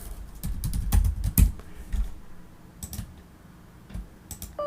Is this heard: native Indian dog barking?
no